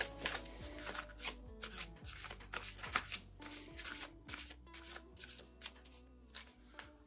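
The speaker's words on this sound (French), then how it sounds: "je vais juste tirer vraiment une seule carte qui soit en lien donc avec le tirage que je viens de faire" A single card being drawn from an oracle deck: faint, close riffling and sliding of cards with scattered soft taps and shuffles, low in level, with no speech.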